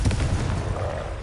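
A Confringo fire spell blasts in Hogwarts Legacy, a loud low booming burst at the start that rolls and fades over about a second.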